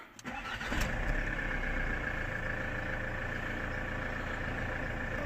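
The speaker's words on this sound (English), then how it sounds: "Okay, the engine is on." A Ford Transit van engine cranks and catches, then settles into a steady, fairly loud idle that runs on alone without talk, all in a garage setting where the van has no fault codes and will not rev up.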